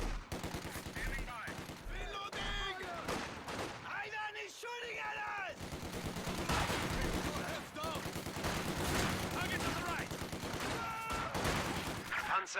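Machine gun half bursts in the Company of Heroes 2 video game, with steady rattling gunfire and distant artillery throughout a busy battle mix, loud and continuous.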